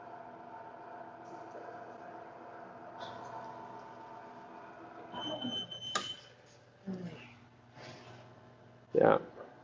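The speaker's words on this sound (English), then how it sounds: "the first part of mixing is done, and then like it lets you know that it's done, by alarm" Alarm on a noodle machine signalling that mixing is done, faint tonal beeps and a steady mechanical hum, followed by a few louder clanks and knocks near the end, with someone talking quietly in the background.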